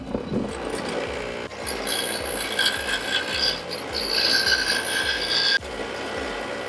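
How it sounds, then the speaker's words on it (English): Bolt cutters trim a metal lock bracket for a cooler, giving close, repeated crunching clicks over a steady metallic rasp. "I'm going to try to trim it with a pair of bolt cutters."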